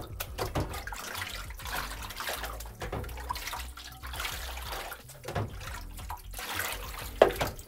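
Water sloshes and runs steadily as a darkroom photo print is rinsed in a clean water wash, with soft splashes and trickles continuing throughout at close range.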